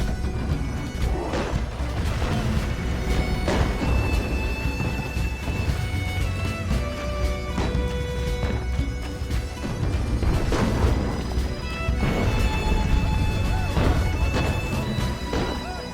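Medieval II Total War river-crossing battle with siege engines hurling carcass shots, a dense continuous din of crashes, impacts and clashing under a musical score, loud and unbroken throughout.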